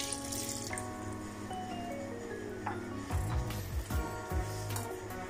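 Water is poured into a blender jar holding carom seeds and white vinegar for a liver-cleaning mixture, making a steady splashing pour under tonal background music.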